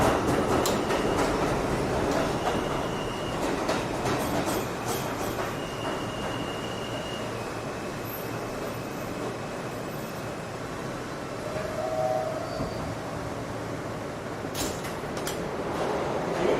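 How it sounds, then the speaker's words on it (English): A New York subway E train bound for World Trade Center rolls along steadily, with a loud sustained rumble, clickety-clack of wheels and occasional high wheel squeals, with no talking. "World Trade Center bound E-train."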